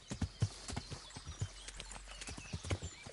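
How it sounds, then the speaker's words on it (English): Horse hooves in Kingdom Come: Deliverance clop in a quick, uneven series of close, distinct thuds. "my horse is running into a tree."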